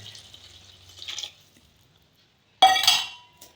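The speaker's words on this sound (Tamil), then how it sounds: "நான் இப்போ தண்ணி ஆட் பண்ணிக்கிறேன்" Water splashes and pours into a metal pressure cooker pot in two short bursts, preceded by faint clinks of cookware in an otherwise quiet space, while making vegetable biryani.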